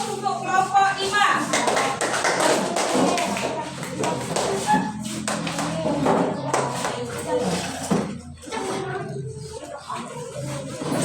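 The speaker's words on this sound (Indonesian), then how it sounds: "Kasih aplaus untuk kelompok 5" A class of fourth graders applauds group 5 after its presentation. Scattered clapping from many hands comes together with chatter and talk in the room, then fades out.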